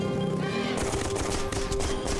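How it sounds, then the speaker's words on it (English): An enemy machine gunner fires in the video game Laika: a short, dense rattle of rapid shots starts partway in and continues to the end over a steady tonal game sound. "I didn't get rid of the machine gunner."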